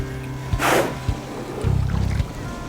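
A rescue boat moves on sea water, with a low motor drone and a few splashes and sloshing sounds close by.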